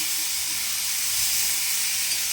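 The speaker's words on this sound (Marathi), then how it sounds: "पूर्ण सगळं हलवून घ्यायचं, परतून घ्यायचं पूर्ण" Tomato bhaji sautés in a pan with a continuous, even hissing sizzle heard up close, with no talk and no clear stirring strokes.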